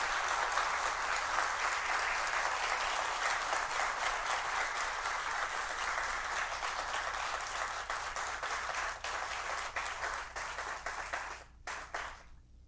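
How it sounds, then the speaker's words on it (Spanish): An audience at a university ceremony in Cali applauds steadily. The sustained clapping slowly thins and tapers off near the end, leaving only a few scattered claps. "el aplauso fuerte para ellos"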